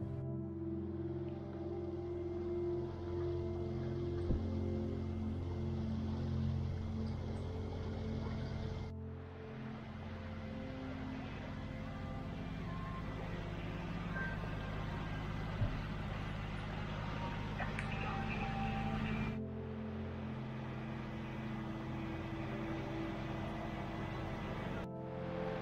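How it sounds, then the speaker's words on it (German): A sailboat's engine runs steadily under way, a low, even drone with a faint wash of water, holding constant with two brief dips in level. "Der Motor läuft immer noch."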